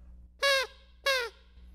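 Two short, bright, chirping calls from a silent-film era tree frog imitation device, evenly spaced and close, over a low hum.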